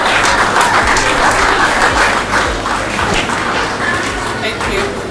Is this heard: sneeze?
no